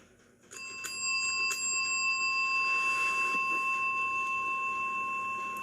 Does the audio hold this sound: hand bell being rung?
yes